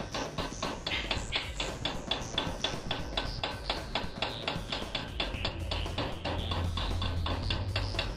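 A hammer strikes a metal piece being bent for car body work on a fender, with a quick, even train of light, close blows repeated rapidly and steadily with no talk.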